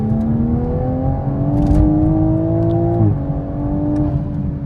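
A Toyota Supra floored hard as it blasts past a Cybertruck, its engine note climbing steadily in a loud, close, sustained rev with a brief dip before pulling on.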